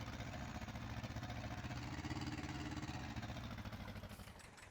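Tractor engine in Farming Simulator 19 running steadily, a low continuous rumble with a faint tick that holds for several seconds and then eases off slightly at the end, with no talk over it.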